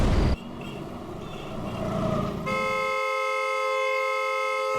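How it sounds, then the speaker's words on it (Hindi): A vehicle horn blares continuously with a steady, bright, sustained tone, loud and close, following a brief burst of louder noise at the start. "नॉन स्टॉप हॉर्न बजा रहा है।"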